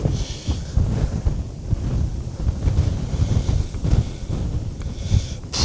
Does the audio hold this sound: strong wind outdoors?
yes